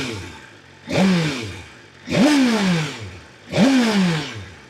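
A 2025 BMW M 1000 XR motorcycle engine revved three times in quick succession, each rise sharp and falling back, loud and close.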